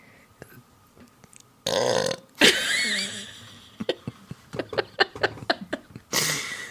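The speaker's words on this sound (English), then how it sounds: "I think I've got another egg burp coming." A man lets out a long, loud belch after eating eggs, preceded and followed by sharp breaths, gasps and short throaty sounds, all very close and dry.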